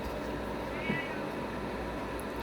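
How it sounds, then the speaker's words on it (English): A cat gives a short, fairly faint meow in a quiet indoor room, with steady low background hum. "Excuse my cat."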